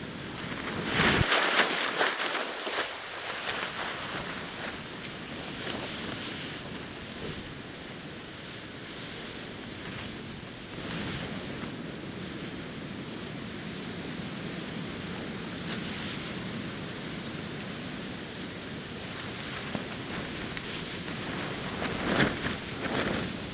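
Wind roars around a hammock camp and buffets a tarp, a continuous broadband rush with gusty swells and occasional sharper flaps and thumps, loud and close throughout.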